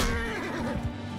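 A horse whinnies loudly in a single drawn-out, wavering neigh over a dense background of Mount & Blade 2: Bannerlord game sounds.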